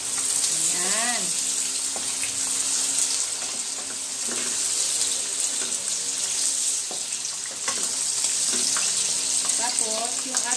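A fried pork chop with onions and garlic in a pan throws off a loud, continuous close-up sizzle for the whole stretch, with occasional utensil clicks and brief faint vocal sounds on top.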